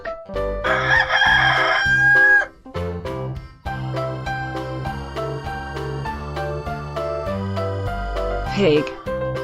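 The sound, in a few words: rooster crowing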